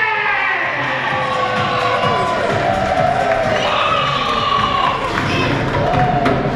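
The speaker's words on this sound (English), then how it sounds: "and you guys will cheer" An audience at a Butlins Skegness holiday camp show cheers loudly, a dense wall of shouts and whoops with children's voices rising above it, close and sustained throughout.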